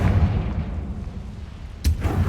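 A sharp fiery Confringo spell blast from Hogwarts Legacy bursts out near the end, a single bright crack over a low rumbling ambience.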